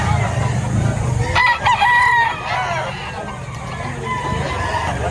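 A rooster crows loudly and close at a busy chicken market in Lipa, Batangas, with one long crow rising above clucking hens and market noise.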